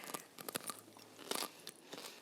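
Roasted pumpkin seeds coated in BBQ spices crunch between the teeth in a quick series of crisp, close bites, faint and with no talk.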